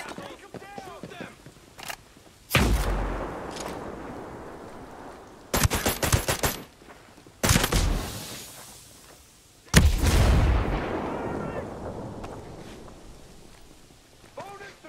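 Gunfire in Ghost Recon Breakpoint during a firefight: several loud bursts of automatic fire and sharp shots, each with a long echoing tail, spaced out over the stretch, with faint game noise in between.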